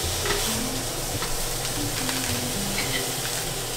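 Food being stir-fried in a pan with a stirring tool, a steady close sizzle and frying hiss running throughout with repeated scraping and stirring strokes, in a home kitchen with no voices over it.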